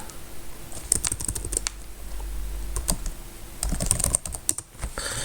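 Fingers type quickly on a computer keyboard at close range, producing bursts of crisp key clicks with a short pause in the middle and no voices.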